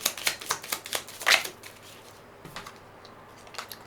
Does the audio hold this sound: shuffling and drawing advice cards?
yes